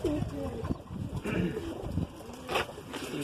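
Soft, low cooing from a pair of Madrasi pigeons with yellow eye rims kept by a breeder in Aurangabad, close and intermittent, with other faint noises mixed in.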